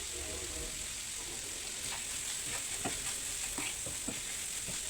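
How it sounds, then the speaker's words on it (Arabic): Green peppers and minced meat stirred in a frying pan: a steady loud sizzle with a few scraping stirs of a spoon against the pan near the end. "هقلب بقى الفلفل الاخضر مع اللحمه المفرومه"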